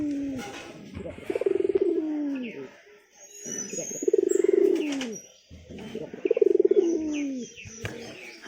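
Pigeons coo at their nests in close, repeated rolling calls, three drawn-out bouts separated by short pauses, with faint chirps in the background.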